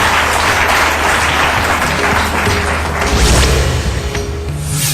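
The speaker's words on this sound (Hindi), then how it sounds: "जोरदार तालियों से स्वागत कीजिए गुरुदेव का।" Loud, dense studio audience applause welcoming a guest on a television show, steady and sustained throughout with a low musical hum beneath.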